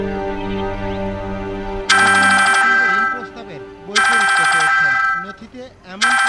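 An electronic ringtone sounds in two loud bursts, signalling an incoming call at home, while people talk over and between the rings.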